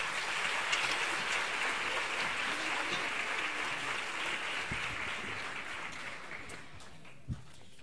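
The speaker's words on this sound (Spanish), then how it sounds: "Un fuerte aplauso para ellos." An audience at a school choir's Christmas carol concert claps together in a sustained round of applause that slowly fades, with a single louder knock near the end.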